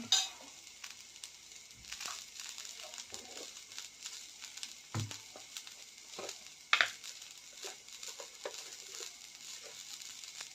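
Coriander powder fries with cluster beans in a pan, a faint, steady sizzle with occasional soft stirring scrapes and a few small clinks, heard close up with no voices.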